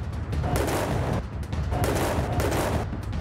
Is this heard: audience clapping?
no